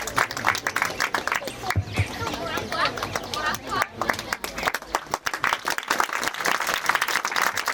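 A crowd at an award ceremony claps in a dense, continuous round of applause, loud and sustained, with talking and voices mixed in throughout.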